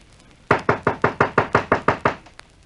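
Once more a front door is knocked on as a radio drama effect, this time with a longer, louder run of about nine or ten evenly spaced hard raps, close and alone.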